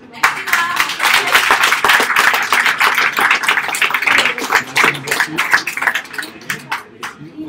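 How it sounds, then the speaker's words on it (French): Audience applause at the Prix Filigranes 2020 award evening, a loud, dense burst of many hands clapping that thins into scattered claps toward the end. "Merci pour vos applaudissements."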